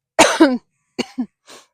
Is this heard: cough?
yes